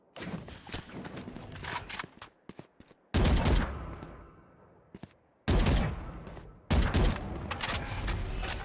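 Gunfire in a Valorant match, several loud bursts of rapid shots separated by short silences, with scattered single shots and footsteps between them.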